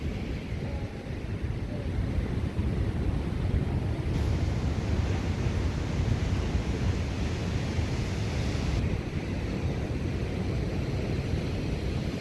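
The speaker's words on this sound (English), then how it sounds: "what a sight out here with these waves today" Ocean waves crash and roar steadily around the concrete Jennette's Pier at Nags Head, North Carolina, a continuous heavy surf wash buffeted by wind noise.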